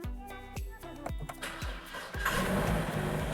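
A car engine left unused for two months cranks in a series of rhythmic, evenly spaced turns, then catches after about two seconds into a steady, louder running roar close by, with no talking.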